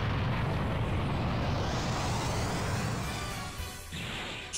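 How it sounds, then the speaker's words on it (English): A large green energy explosion in Dragon Ball Z Budokai 3 roars as a loud, sustained blast with rumbling debris, fading slightly toward the end before a final burst. "I like that the explosion is green too"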